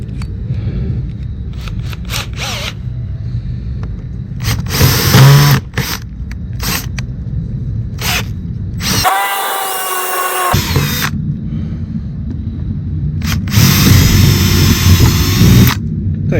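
A power drill bores through the aluminum skin and wood of a cargo trailer in several short, loud, whining bursts, with quiet pauses between them.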